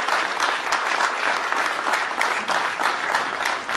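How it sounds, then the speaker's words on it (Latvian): Congratulatory applause from a crowd at the opening of a new dried-fruit factory, steady and moderately loud for several seconds without talk. "šie ir apsveikuma aplausi pirmkārt"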